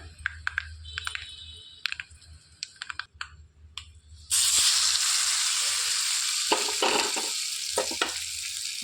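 Asafoetida drops into a hot tempering for a greens chutney and bursts into loud, steady sizzling. Several seconds of light clinks and stirring come before it, and the sizzle keeps going to the end.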